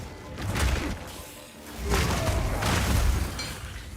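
Explosions in Path of Exile 2 go off as two heavy booming surges with a shattering crackle, loud and dense, the second lasting longer.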